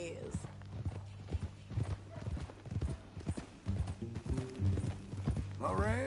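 Horse hooves clip-clop in a steady walking rhythm in Red Dead Redemption 2, with voices talking over them and a brief whinny near the end.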